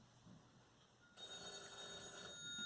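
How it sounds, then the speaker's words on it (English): A telephone bell starts ringing partway through in a theatre dressing room, a bright sustained electronic trill over a quiet room. "That's the phone."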